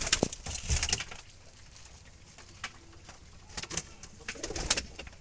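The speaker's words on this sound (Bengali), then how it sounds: "খুব সুন্দর কবুতর" Wild Jalali pigeons kept in baskets coo softly in scattered, throaty bursts, with light pattering and clicking sounds in between.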